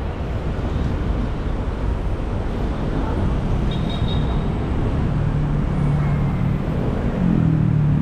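Highway traffic rolls past someone walking along the roadside, a continuous broad roar of passing vehicles that swells slightly near the end, with a faint voice at times.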